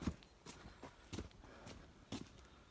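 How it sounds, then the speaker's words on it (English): Neighbouring cob horses move about outdoors on a Scottish off-grid homestead, giving a few faint, distant hoof thuds in an irregular clip-clop rhythm, quiet and alone. "That's the neighbour's horses there,"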